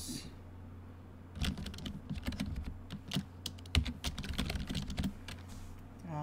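Code is typed on a computer keyboard in quick irregular bursts of close, crisp key clicks with short pauses between them, no voices present.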